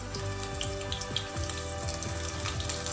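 Crispy shrimp fritters (tortang hipon / alamang) frying in hot oil, a dense, steady crackle and sizzle with scattered sharp pops close by, continuing without talk.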